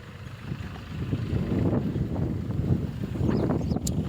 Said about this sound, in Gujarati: રાહુલભાઈ ટ્રેક્ટર રાખે